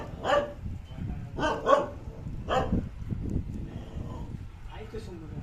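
A dog barks about four times in spaced bursts, near and moderately loud. People talk around the barks outdoors.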